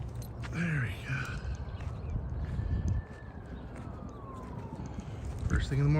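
A siren in the morning, a faint rising-and-falling wail drifting in from a distance over outdoor rumble and scattered nearby knocks and movement.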